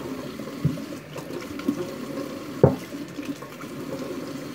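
Braiding hair being rinsed under running tap water in a sink, a soft steady flow with a few louder splashes as the hair is moved.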